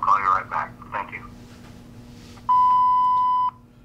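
An answering machine sounds a single steady electronic beep lasting about a second, right after a recorded voice greeting finishes.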